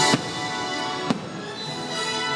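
Fireworks bursting over Disneyland: two sharp, distant booms about a second apart, each ringing into a steady crowd-and-crackle wash that fills the gap without any clear talk.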